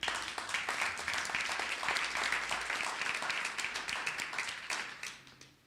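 Conference audience applauding at a keto event in Salt Lake, a dense wash of many hands clapping that holds steady, then thins out and fades near the end.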